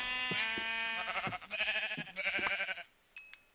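Minecraft sheep bleating, a few loud, close, wavering baa calls in quick succession, followed by a short pause and a faint clink.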